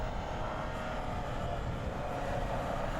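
A Land Rover engine pulls up a snowy incline in first gear under strong, steady throttle, a continuous low rumbling drone that stays loud and even throughout with no talk.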